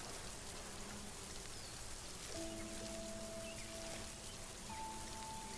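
Steady rain falls in the Solarpunk video game, a dense, even hiss that runs throughout, with soft sustained tones from the game sitting lightly above it.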